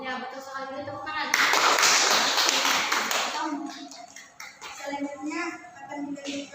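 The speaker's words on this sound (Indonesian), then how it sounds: "Beri tepuk tangan." A classroom of students breaks into a burst of hand clapping during a practice lesson on Islamic ritual ablution. The clapping lasts about two seconds and fades back into the teacher's and children's voices.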